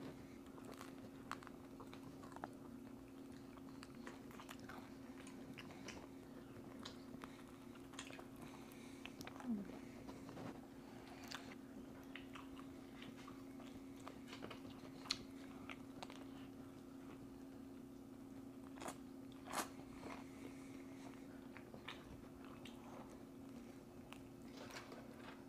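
Wingstop garlic parmesan chicken wings being eaten up close, with soft, scattered bites and wet chewing sounds over a steady low hum, and no talking.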